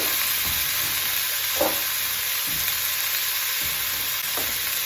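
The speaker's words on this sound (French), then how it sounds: "avec ma planche souple, je peux verser mes cubes de potimarron" Cubes of potimarron pumpkin sizzle steadily in a hot pan, a constant bright frying hiss with a few soft stirring knocks and scrapes.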